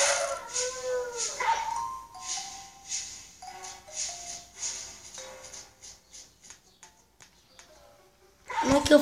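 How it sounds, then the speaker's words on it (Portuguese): A dog howls and yelps in a video game, several drawn-out rising howls and short barks that fade toward the end, with brief speech-like sounds mixed in. "Não, vem, cachorro, vem."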